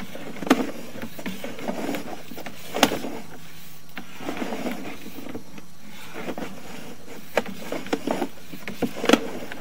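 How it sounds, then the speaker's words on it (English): Cars rolling over a street manhole cover outside, heard from inside a drain pipe during a sewer camera inspection at a child care center: irregular muffled thumps and clanks spaced a few seconds apart over a low steady rumble. "The sound you hear is cars hitting the manhole outside."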